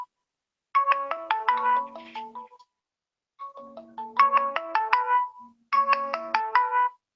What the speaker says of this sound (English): my phone was ringing, but it was ringing on Hangouts